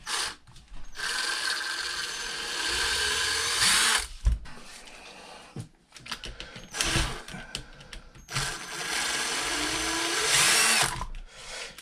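Power drill backing bolts out of a Savage Flux 8s RC truck, loud whining bursts of several seconds each separated by short pauses with clicks and handling noises.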